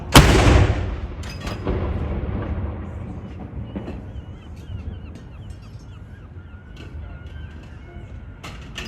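A Royal Artillery gun fires a salute at Edinburgh Castle for the King's birthday: one loud, close boom opens, then a long rumbling echo rolls and fades across the city.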